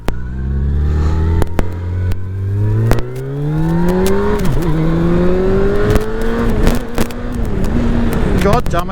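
A Yamaha FJR 1300 motorcycle rides along a road, its engine note climbing steadily as it accelerates through the gears with brief dips at each shift, over wind and road rumble.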